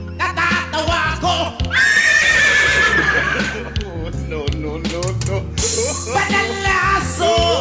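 At a town fiesta in Pitogo, Quezon, a horse lets out loud, drawn-out whinnies amid a noisy crowd, with people talking and shouting throughout and hoof clops mixed in.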